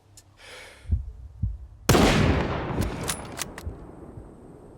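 Two dull thumps, then a loud blast with a long rumbling tail and a few sharp follow-up cracks, gunfire in STALKER 2.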